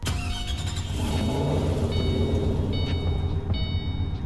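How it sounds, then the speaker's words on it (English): A 2005 Falcon Heritage car engine starts up in Roblox Greenville, then holds a loud, steady run with a rough low-pitched rumble and short electronic chimes over it. "Our next car that was updated is the 2005 Falcon Heritage. I believe they have an updated tune, sound, and lights. So here's the startup."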